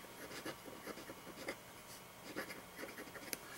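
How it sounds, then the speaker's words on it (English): Vintage circa-1915 Waterman 12VS safety fountain pen with a wet-writing stub nib scratching across a Rhodia dot pad, faint close scratchy strokes in short irregular bursts. "especially with the stub nib on this rodeo dot pad, you can actually hear that fairly well"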